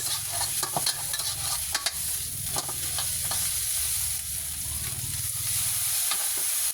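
Red curry paste stir-fried in a wok over low heat, a soft continuous sizzle with a spatula scraping and tapping the pan in irregular strokes, close and steady, no talking.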